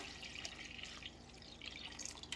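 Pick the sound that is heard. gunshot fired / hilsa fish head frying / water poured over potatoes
water poured over potatoes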